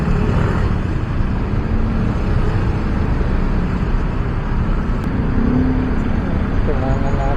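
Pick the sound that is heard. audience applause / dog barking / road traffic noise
road traffic noise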